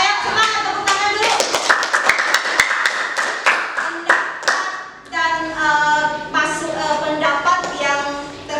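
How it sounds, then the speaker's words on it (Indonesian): Students clapping hands together in a school classroom, a burst of sharp, close, rhythmic claps that loosens into scattered, ringing claps, with some voices chattering in the background. "Ayo semangat, tepuk tangan dulu."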